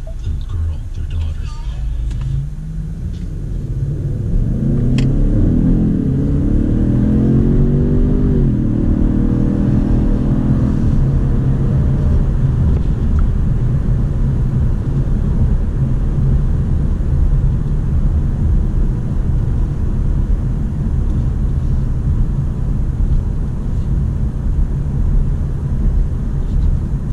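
2017 Ford Fusion Sport car driving at speed, its engine rising as it accelerates, then settling into a loud, steady interior road rumble that continues to the end.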